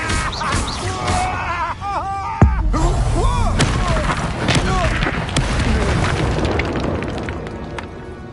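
In Hogwarts Legacy, a Confringo spell blast lands with a sharp, loud boom, followed by a rumbling, crackling tail layered with swirling magical effects and game ambience.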